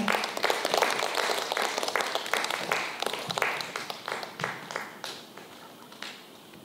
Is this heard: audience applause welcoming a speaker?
yes